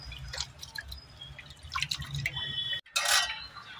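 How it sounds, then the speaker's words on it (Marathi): Rice is rinsed in water for kheer, with soft drips, splashes and trickling close by, then a brief pause before a brighter burst of pouring water. "तांदूळ धुवून घ्यायचे आणि अर्धा तास पाण्यात भिजत ठेवायचे"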